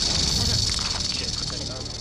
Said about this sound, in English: What is that sound? Is that a snake?